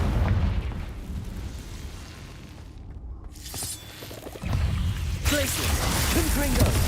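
Confringo explosion spells go off in the Hogwarts Legacy video game, deep booming blasts with rumbling bursts over dense battle noise and a voice in between.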